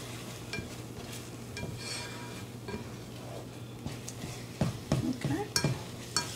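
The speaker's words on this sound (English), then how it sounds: "So our eggs are cooking. We're just gonna scramble them up here." Eggs being scrambled in a frying pan for breakfast burritos, with soft steady sizzling under scraping and stirring, then a few sharper utensil clinks against the pan near the end.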